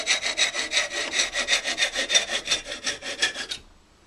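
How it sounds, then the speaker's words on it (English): A cutoff tool saws through a wooden mallet in the wood shop, making fast, even rasping strokes up close for about three and a half seconds before it stops abruptly. "I use the cutoff tool to make a gouge in here, and now I can come through right here and just cut through"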